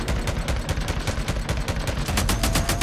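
Continuous heavy machine gun fire in a video game, a loud, close, unbroken stream of rapid shots with rhythmic pulsing, no voices over it.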